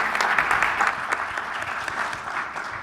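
At a public forum on budget priorities, a seated audience gives a moderate, steady round of applause, with many hands clapping together at a fairly even level.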